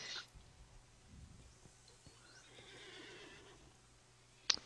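A horse whinnies in the fantasy online game Lord of the Rings Online, a short bright neigh at the start and a sharp cry near the end, with faint game ambience between.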